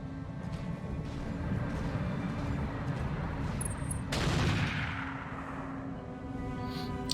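Mechs fire their weapons in the Roguetech BattleTech game, a dense, continuous clatter of gunfire with a sharp burst and a roaring swell midway, loud and steady throughout.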